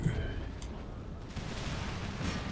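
Musket and cannon fire in a battle in Empire: Total War, a dense crackling volley over a low rumble, moderately loud and continuous, with a sharp burst at the start.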